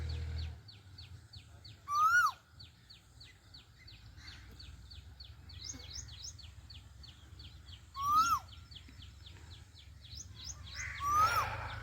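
Asian koel calling from a perch near fields being prepared for rice planting, its rising whistled call heard three times at moderate distance over a steady low rumble, with faint chirps from other birds throughout.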